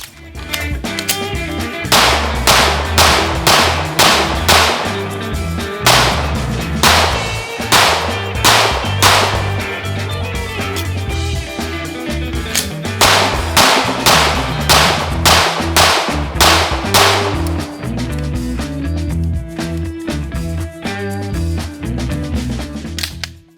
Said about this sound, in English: let's get back to shooting the Mac 9 DS comp